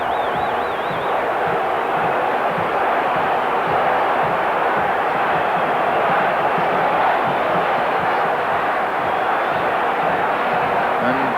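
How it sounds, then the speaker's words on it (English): Dense, roaring football stadium crowd at the 1986 World Cup in Mexico, Argentina against Uruguay, a loud continuous wash of voices and chanting with no pauses, filling the whole stretch. "The crowd is so noisy."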